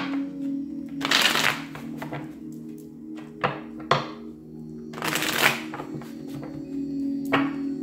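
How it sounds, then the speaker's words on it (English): Tarot cards being shuffled by hand at close range, two main bursts of riffling and slapping with small card taps between, over a steady low hum. "Let's do two more shuffles"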